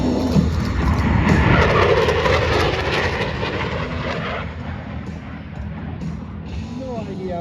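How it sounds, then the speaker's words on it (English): A McDonnell Douglas Boeing F-15 jet passes at an airshow at Dover Air Force Base, its broad roar swelling loudly, then thinning and fading as it moves away, with a voice talking over it. "Here it comes from the right, the F-15."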